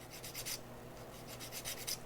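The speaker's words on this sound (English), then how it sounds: "I just wanted to get my fingernail file here so I could clean these up as needed" A fingernail file rasps back and forth over small plastic model parts, in quiet, steady strokes with brief pauses between passes. The sound is close and fairly soft, with no voices.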